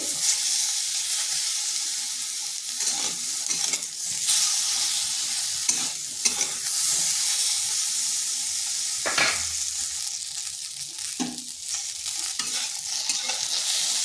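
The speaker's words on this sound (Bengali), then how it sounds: "এরপর বেগুনটাকে ভেজে নিচ্ছি।" Eggplant slices sizzle steadily in hot oil in a pan, a constant close frying hiss with occasional soft stirring scrapes and no talking.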